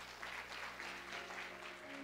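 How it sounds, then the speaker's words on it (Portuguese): A church congregation claps during a Portuguese-language service, a faint, distant patter of hands under a low steady hum. "e uma salva de palmas para Ele."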